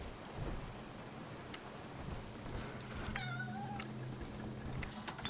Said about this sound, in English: Cat wants to be let in, the cat wants to be let out.